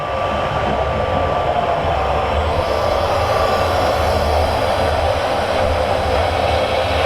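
A loud, steady roaring rush of flame from a gas hand torch used for neon tube work, continuous and close, with no breaks or voices.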